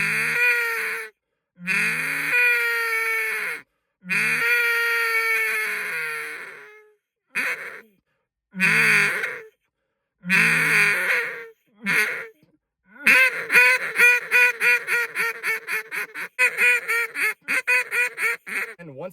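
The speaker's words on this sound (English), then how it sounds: "slowly cut it off until you get that squeal, that Cajun squeal sound" Cajun squeal blown on a duck call: a run of loud, drawn-out nasal squealing quacks with breaks between, ending in a fast rhythmic series of short chattering quacks.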